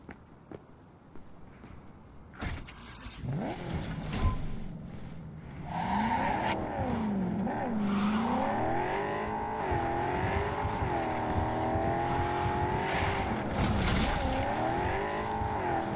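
A car in Cyberpunk 2077, driven in first person, starts quietly, then its engine rises into a steady, revving drone that swells and dips through gear changes, with some scuffing and tire noise along the way.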